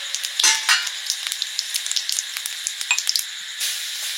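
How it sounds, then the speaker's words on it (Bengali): Whole cumin and whole garam masala sizzling in hot frying oil for an egg curry, a steady close hiss with crackling pops and brief stirring scrapes. "ডিমের ঝোল করব, গোটা জিরে আর একটু গোটা গরম মশলা দিয়েছি।"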